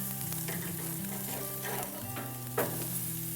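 T-bone steak sizzling on a gas grill just after being flipped, a steady crackling fry holding throughout at moderate, close level, with a brief sharper pop near the end and no talk over it.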